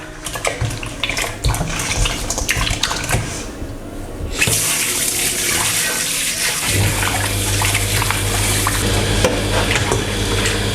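Running tap water splashes as an octopus is washed under it, a continuous rushing spray that grows louder partway through, when a steady low hum from a water pump joins in and runs beneath it to the end.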